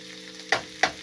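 Onions fry in a pan for a moose meat meal, giving a soft, steady sizzle broken by two quick scrapes of a utensil stirring them.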